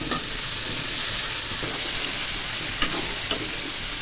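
Spices (turmeric, salt, chilli powder, cumin and coriander) and potatoes are stir-fried in a pan, with an even, close sizzling hiss and a couple of light utensil clicks near the end.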